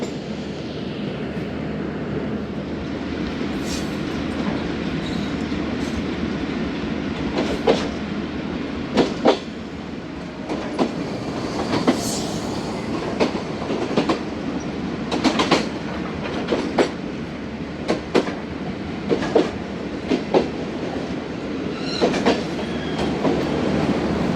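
The Millat Express rolls past on a Pakistani railway line near Lahore, a loud, steady rumble with rhythmic clickety-clack of wheels over rail joints throughout, close and continuous with no voices.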